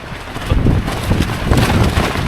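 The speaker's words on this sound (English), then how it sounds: "Like I said, really windy today." Strong wind buffets the microphone in loud, rumbling gusts at a snowy winter campsite, continuous and close, with no voices.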